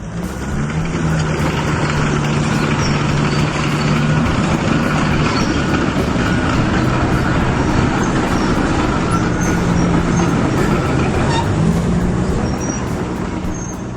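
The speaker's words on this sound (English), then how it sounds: "A 1944 John Deere growls to life, the two-cylinder beat echoing like a heartbeat from another century" A 1944 John Deere two-cylinder tractor engine running steadily, a loud, continuous low mechanical rumble close by with no pauses.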